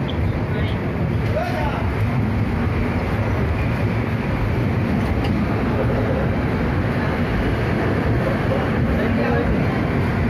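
Rolling rumble of a train slowly leaving Bhubaneswar station fills the space as a dense, steady roar, with indistinct voices faintly mixed beneath it.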